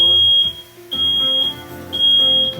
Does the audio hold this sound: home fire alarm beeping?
yes